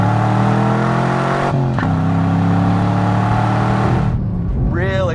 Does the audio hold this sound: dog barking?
no